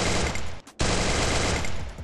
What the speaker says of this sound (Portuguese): Tem alguém trocando tiro aqui